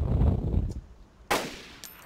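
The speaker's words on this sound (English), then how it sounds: "Who are you shooting?" Gunfire in the game DayZ: a close, heavy burst opens, then after a pause a single sharp crack and a faint later shot.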